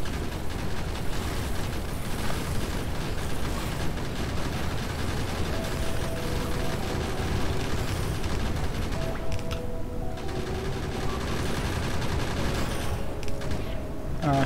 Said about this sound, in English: Well, those grenades came in handy.